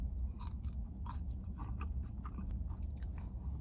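Fries with ranch are bitten and chewed up close in a parked car, soft repeated crunches and mouth sounds over a low, steady engine-like rumble.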